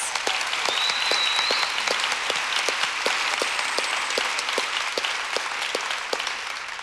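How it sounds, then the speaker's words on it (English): An audience applauds at a community gathering, a loud, sustained crowd clapping that fills the room evenly for nearly seven seconds with individual claps standing out sharply through the wash. "Ladies and gentlemen, let's give that young lady another round of applause."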